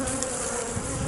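Honeybees buzzing loudly from an opened, populous hive during a colony split, a dense continuous drone close by with no talk.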